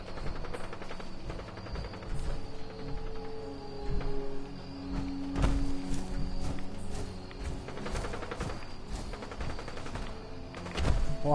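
Automatic gunfire in Fallout 4 rattles in bursts of rapid shots, some distant and some closer, with heavy thuds and booms scattered among them over a low background drone.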